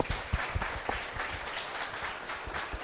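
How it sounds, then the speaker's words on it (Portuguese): Brief audience applause at a talk-show style event, a short burst of clapping with a few sharper claps near the start, fairly faint. "Uma salva de palmas para eles."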